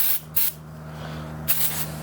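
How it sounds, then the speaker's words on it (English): Brake cleaner aerosol sprays onto a rag during intake manifold work on a Ford Crown Victoria, in two short hissing bursts, the second slightly longer, close and loud over a low steady hum. "we spray some brake clean on a rag"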